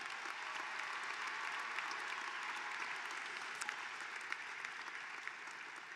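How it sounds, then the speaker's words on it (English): Distant, steady applause from a large commencement audience honoring graduating students, a continuous soft roar of many hands clapping in a big hall. "A round of applause for these outstanding students."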